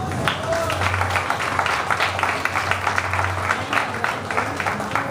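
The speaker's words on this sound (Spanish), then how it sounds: "Un aplauso." An audience at a painting exhibition opening claps steadily for the head of a fine arts workshop, moderate applause lasting throughout with faint voices beneath and a low hum in the room.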